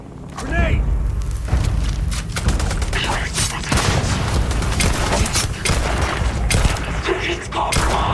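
A grenade explosion in the Starfield video game, heavy booming blast followed by sustained rapid gunfire and thudding impacts, loud and close, with a voice shouting over the chaos.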